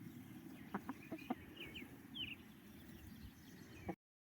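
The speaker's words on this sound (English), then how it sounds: "This short video shows a chicken who is foraging as it pecks at the ground and scratches" A foraging chicken pecks and scratches at the ground, giving soft scuffs and taps with a few quiet clucks, close by and with no talk.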